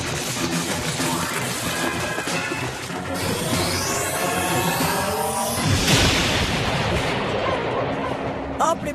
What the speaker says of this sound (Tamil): இந்த வெடிச்சத்தம் அந்த திருடனை பயந்து ஓட வச்சிருக்கு